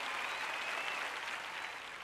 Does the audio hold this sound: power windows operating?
no